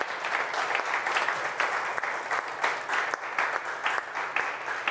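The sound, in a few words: audience applause for the panelists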